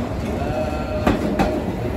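A London Underground Circle Line train rumbles steadily nearby as it arrives, with two brief bursts of rattling or squealing from the wheels over a constant mechanical hum.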